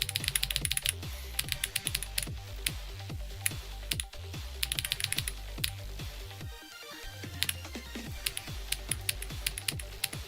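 A computer keyboard clicks fast and steadily during a Geometry Dash game, with dense rhythmic keypresses running nonstop and close-up, with only a brief lighter patch and no talking.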